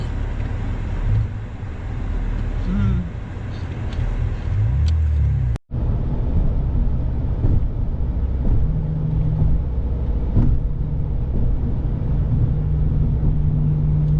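A BMW cruising on a US super highway, heard from inside as a steady, loud road and engine rumble that runs unbroken apart from one brief dropout.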